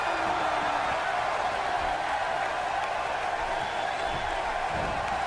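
A WWE 2K18 wrestling arena crowd keeps up a constant loud roar of cheering, with no breaks and no distinct claps standing out.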